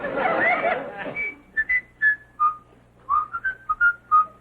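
A pet bird whistling a tune in a series of short clear notes, following a brief burst of noisy chatter at the start.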